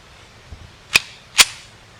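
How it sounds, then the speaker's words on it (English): A pistol's slide racked back and let go to chamber a round, heard as a faint light tick followed by two sharp, close metallic clacks about half a second apart, loud and isolated. "You pull it back and release so that it snaps."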